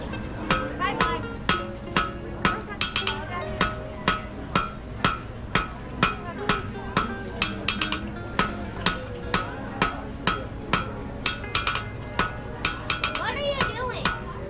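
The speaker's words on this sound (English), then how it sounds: "When you bounce the hammer off on your Anvil." A blacksmith's hammer strikes steel on an anvil at a Silver Dollar City demonstration in Branson, Missouri, ringing in a quick, regular series of sharp metallic blows with bouncing rebounds, close and loud, while voices talk faintly.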